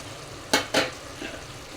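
A spoon stirs mutton and cucumber curry in a pot, giving two quick scraping strokes close up over a low simmering sizzle, followed by a fainter third scrape.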